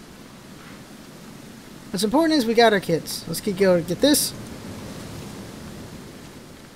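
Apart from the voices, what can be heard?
rain in a video game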